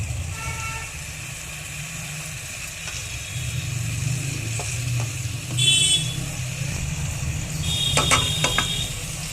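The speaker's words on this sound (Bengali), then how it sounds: "এবার চিকেন পিস লেগ পিসগুলো মিশিয়ে দেবে।" Chicken leg pieces are mixed into a curry in a hot pan, with a constant close sizzle and a few scraping, clattering stirs near the middle and end.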